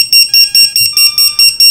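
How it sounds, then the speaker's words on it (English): A Matek lost model alarm buzzer for a drone beeps loudly and shrilly in a fast, even series of about eight piercing pulses, close and alone. "That's the reason why we got a lost model alarm in it and why we've got this beeper connected up."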